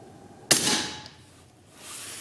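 A single sharp crack from a 12.5-inch .308 rifle fired with subsonic ammunition through a Huxwrx Ventum suppressor at night, followed by a fading hiss of echo and a faint distant ping.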